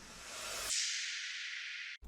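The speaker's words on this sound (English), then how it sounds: "which I reversed, so it kind of creates a like riser crash effect thing" A reversed crash cymbal used as a riser effect in a drill beat: a bright noisy wash that swells steadily for about two seconds, then cuts off abruptly, heard alone.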